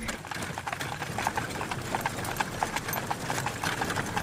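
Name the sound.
horses' hooves clip-clopping, audio drama effect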